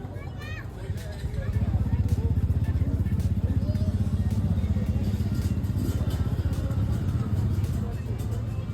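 Close motorcycle engine running steadily during a sound level test at the Touquet event, a loud, even throb that rises after a second and holds, with people talking underneath.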